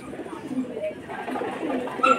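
Madras pigeons coo softly in a Kolkata pigeon loft, low murmuring calls close by, mixed with nearby talk.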